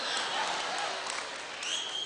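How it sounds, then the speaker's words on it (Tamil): A university student audience claps in a steady, dense wash of applause that fills the hall, with a voice faintly over it. "இப்பொழுது மாணவர்கள் எல்லாம் என்னுடைய பெயரை சொன்னால் கைதட்டுகிறீர்கள்"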